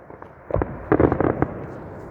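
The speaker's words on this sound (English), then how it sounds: "Look at the golden fireworks." Golden fireworks burst outdoors in a short run of loud, crackling booms, with one pop followed by a denser cluster of several overlapping blasts.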